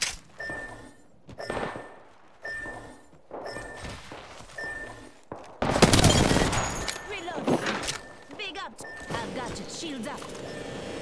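Enemy gunfire in the battle royale video game Apex Legends, with bursts of rapid shots and heavy impacts, a sustained loud barrage in the middle, mixed with game voice lines.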